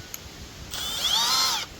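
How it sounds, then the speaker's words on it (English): A Milwaukee M12 FUEL hammer drill with an all-metal chuck spins up in drill mode at speed 2 on a full battery, a steady high-pitched motor whine lasting about a second, close and loud, with no talking. "We'll just run a couple drill bits through, maybe get a percussion bit and run it through a piece of block."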